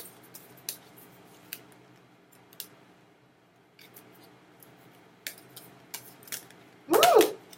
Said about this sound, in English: just gonna pull out 6 more cards